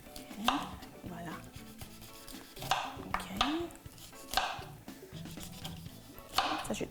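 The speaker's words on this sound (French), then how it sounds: "je coupe autour du noyau ici" A knife cuts through a soft, ripe peach around its pit, giving a few short, close cutting and scraping sounds separated by brief pauses.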